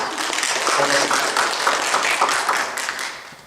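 A church congregation applauds together, a dense, steady patter of many hands clapping that fills the room and fades slightly toward the end, with some voices mixed in.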